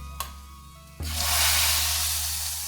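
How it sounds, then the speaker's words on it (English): A faint click, then a sudden loud sizzle about a second in that holds as a steady hiss of masoor lentil dal hitting a hot pan. "Did you hear that lovely sizzle?"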